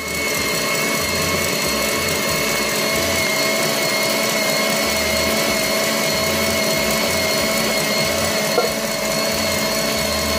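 An electric mixer beats chocoflan batter of egg yolks, evaporated milk, oil and chocolate, giving a steady, loud motor whine with a constant pitch and a slightly rhythmic low churn, with no speech.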